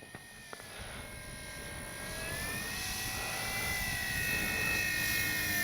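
A FlexRV8 60E electric RC model airplane flies overhead, its motor giving a steady whine that shifts gently in pitch and swells louder as it nears, with no talk.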